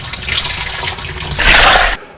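Water sloshes and rushes, building to a loud close splash of a bucket of cold water before cutting off abruptly.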